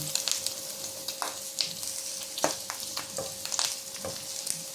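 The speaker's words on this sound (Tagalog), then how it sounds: "Igigisa ko na yung ating bawang sibuyas" Garlic and onion sizzling in a little oil for pancit habhab, a steady close frying hiss broken by repeated spatula stirs and scrapes against the pan.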